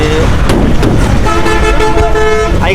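A bus horn honks loudly and close by while passengers board, sustained toots over a constant roar of engines and street noise.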